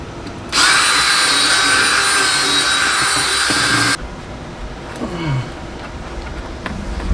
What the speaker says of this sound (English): I really need a 7/8 drill bit